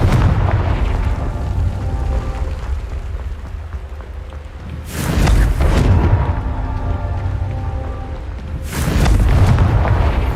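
Explosive blasts from the Confringo spell in Hogwarts Legacy, a fantasy video game: two loud booming bursts, each with a sharp onset, about four seconds apart over a low rumbling game background.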